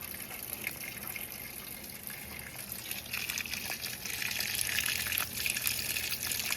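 Cold water gushes into a washing machine from its inlet, a continuous rushing hiss that grows slightly louder toward the end, with no talk.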